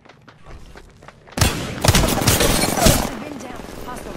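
Gunfire in Apex Legends: a sudden loud burst of rapid shots erupts after a quieter stretch, continuing dense and rattling for about two seconds before easing into lingering game noise.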